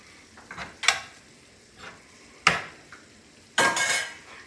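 Spinach and cooked meat for japchae are tossed in a pan with a utensil. There are three or four distinct scraping, clattering strokes, separated by pauses, close up and with no talk.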